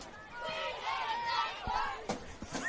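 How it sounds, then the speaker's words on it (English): Young juniors in a football crowd at a State League 1 elimination final, shouting and chanting as a loud, continuous wash of voices with sharper yells and claps breaking through. "Very vocal are the young juniors in the crowd"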